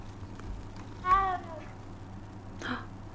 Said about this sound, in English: Oh, it was the cat meowing?